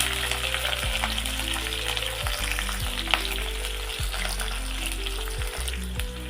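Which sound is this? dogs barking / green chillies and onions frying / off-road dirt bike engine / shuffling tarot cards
green chillies and onions frying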